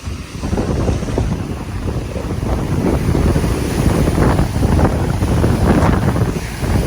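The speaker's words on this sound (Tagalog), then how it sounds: "Malaki na ang alon." Big sea waves surge and crash amid strong, steady wind during Typhoon Opong on the coast of Lagonoy Gulf at Barangay Nato, Sagñay, Camarines Sur, water reaching houses; continuous loud roaring surf and wind buffeting the microphone, with no voices.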